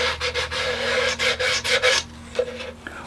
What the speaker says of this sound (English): Oh, the joys of hand sanding.